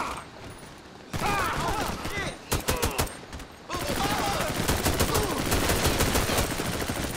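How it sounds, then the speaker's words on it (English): Gunfire in GTA 5 during an undercover police shootout at the Diamond Casino: bursts of automatic fire and a rapid string of sharp shots rattle continuously, loud and close, with voices and game sounds mixed in. "Man, we're taking a lot of heavy fire, guys."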